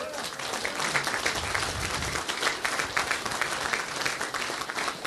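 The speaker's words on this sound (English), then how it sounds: "the one most important thing is a round of applause for the parents" Audience members at a city council meeting give a round of applause, a continuous mid-level patter of many hands clapping with faint voices mixed in.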